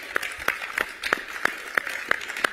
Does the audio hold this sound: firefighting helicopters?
no